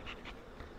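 Honey bees buzz at a hive entrance, a steady close insect drone with brief louder swells as individual bees pass near, heard alone without talk.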